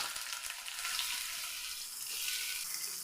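Sliced onion with curry leaves frying in oil in a pan, a steady soft crackling sizzle throughout, faint and close, with no talking.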